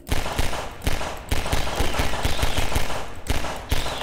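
Allied soldiers' gunfire crackles in the Half-Life 2 video game: rapid, loud bursts of automatic rifle shots in quick clusters with brief pauses, dense and close throughout.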